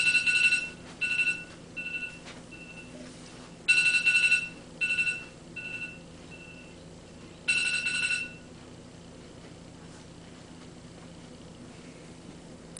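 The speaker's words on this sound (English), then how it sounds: "I just turned off a phone alarm." A phone alarm rings in repeated bright electronic beeping bursts, three groups of pulsed tones with gaps between, fairly loud over a quiet room, then stops abruptly.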